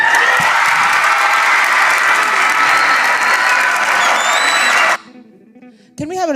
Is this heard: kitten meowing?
no